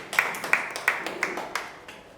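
Sparse applause from an audience at an interschool debate competition, a handful of distinct claps spaced roughly a third of a second apart, moderately close and fairly faint, with no talk.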